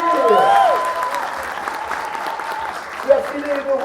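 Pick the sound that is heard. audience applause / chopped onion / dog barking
audience applause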